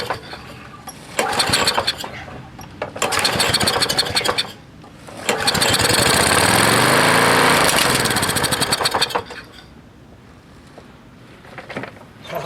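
A Lawnboy 196cc mower picked up by the roadside is pull-started, with several loud bursts of engine sputter and revving, then a few seconds of steady running before it dies back to quieter noise near the end.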